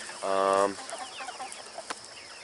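A farm chicken on butchering day lets out one loud, close cluck around half a second in, followed by faint scattered background noises.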